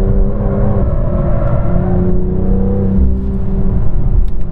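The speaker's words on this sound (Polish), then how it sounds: "Bardzo pozytywnie też oceniam wydech, który wspaniały dźwięk wydaje" BMW M2 driven on a race track, its engine and exhaust giving a loud, steady droning roar with a rich tonal note that holds throughout, close and continuous with no talking.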